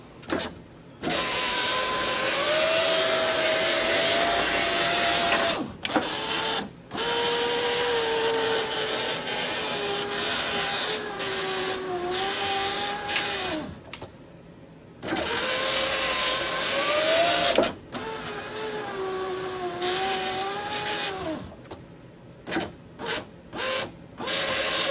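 Power window motor on a 2002 Chevrolet driving the window up and down, a steady whining hum in long runs of several seconds each, separated by brief pauses and ending in a few short bumps.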